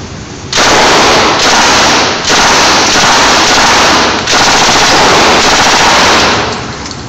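Tommy gun firing in continuous loud bursts of rapid automatic fire with brief dips between strings, close and alone with no talking.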